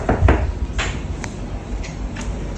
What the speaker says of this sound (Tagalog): Pakibuksan nga muna yung pinto.